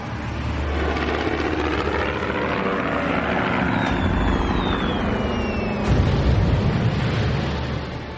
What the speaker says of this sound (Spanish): Llega una segunda ola de aviones,